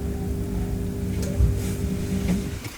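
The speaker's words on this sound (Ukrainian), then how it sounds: "І мені здається, що це гул від самого насосу, на який подається напруга, але насос не запускається." An LG washing machine's drain pump receives power but fails to start, giving a steady low electrical hum with a faint tonal buzz and a few small clicks, close and continuous.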